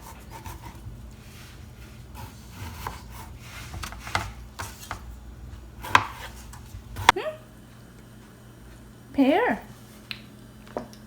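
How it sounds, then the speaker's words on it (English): A knife cuts through a soft, very ripe pear on a board in a home kitchen, making scattered soft thuds and taps, with a few sharper knocks and brief squeaky sounds near the end. "Today I have this ripe pear, so I'm just gonna chop it."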